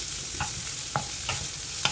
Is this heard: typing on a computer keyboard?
no